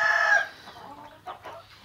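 An Asil hen gives a loud, close call that fades within half a second, followed by a few faint, soft clucks with no voices.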